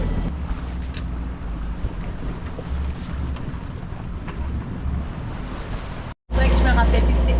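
Sailboat under motor and sail along a coastline, steady low engine drone with wind buffeting the microphone and water wash throughout, cut by a brief dropout before a louder gust near the end.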